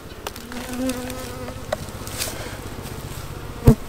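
Bees buzz loudly right against the microphone, a dense droning hum with sharp bumps and brushes as insects knock into it.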